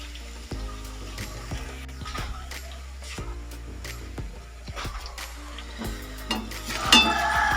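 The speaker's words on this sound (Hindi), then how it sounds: "तो मैं इसको कड़ी में सादा सा लहसुन और ज़ीरा थोड़ा सा और धनिया ये डाल के मैं तड़का दे दूंगी इसको" Garlic, cumin and coriander tadka frying in oil for kadhi, a steady close sizzle with occasional stirring taps and clinks of a pan throughout.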